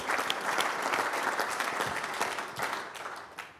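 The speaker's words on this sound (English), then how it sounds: "Applause as well." Audience applause at an IBM awards ceremony as a presenter is called to the stage, sustained clapping from a crowd that gradually thins toward the end.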